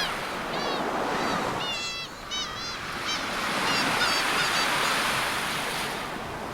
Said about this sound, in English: the waves on the beach pass my feet